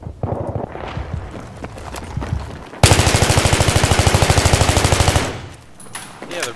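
M3 gunfire in Battlefield 3 rattles out as one long, loud, rapid automatic burst of evenly spaced shots lasting a few seconds, preceded by quieter in-game clatter and scattered shots.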